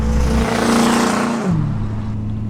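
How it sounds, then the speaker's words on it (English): A 1972 Datsun 580Z Spyder drives at speed, its engine holding a steady loud drone that drops in pitch partway through, as if shifting or easing off, over road and wind noise. "I really enjoy driving this car because it goes down the road really nice and smooth."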